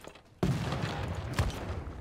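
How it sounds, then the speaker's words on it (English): Artillery bombardment of a city in Civilization 6, a sudden loud blast after a quiet moment followed by a rumbling barrage with a second impact near the end. "let's have another huge bombardment"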